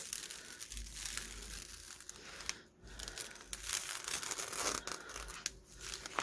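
Napkin paper coated in Mod Podge is peeled off a surface, giving close, continuous crinkly tearing and rustling with brief pauses.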